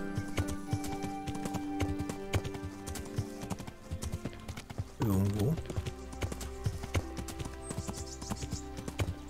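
Horse hooves clip-clopping steadily while riding into a forest in the medieval game Kingdom Come: Deliverance, a continuous rhythmic trot with a brief whinny midway, heard under someone talking.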